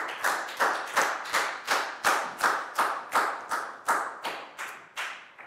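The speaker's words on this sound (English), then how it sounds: "High five and a big round of applause for Chu," A class of pupils claps in a steady unison beat for a classmate, about fourteen evenly spaced loud claps, each ringing briefly in the room.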